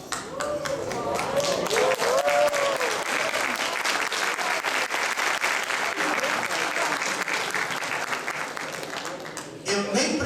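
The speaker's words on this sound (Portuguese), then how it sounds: "Eu nem precisei pedir as palmas porque elas vieram espontaneamente." A church congregation bursts into spontaneous applause, a dense, sustained wash of many hands clapping that holds for about nine seconds before tapering off, with a voice briefly heard near the start.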